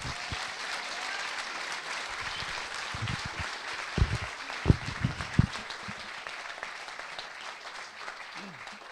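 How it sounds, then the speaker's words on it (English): A political meeting audience gives a speaker a round of applause, dense steady clapping that fills the room for several seconds, with a few louder nearby claps standing out near the middle before it thins toward the end. "please give a big round of applause for Dennis Canavan"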